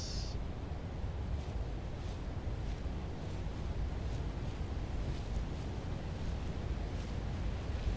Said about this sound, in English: Sounds like there's a waterfall in here or something.